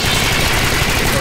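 Rapid gunfire from the top-down shooter Alien Swarm, a dense continuous clatter of shots filling the short stretch at steady loudness, with players talking over it.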